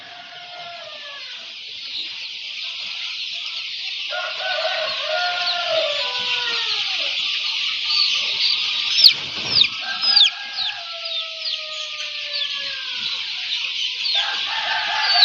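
A flock of chickens clucks steadily throughout, with a rooster crowing several times at moderate distance and busier calls bunching up midway, heard alone without talk.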